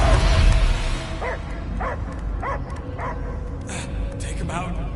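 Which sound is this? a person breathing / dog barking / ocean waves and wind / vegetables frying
dog barking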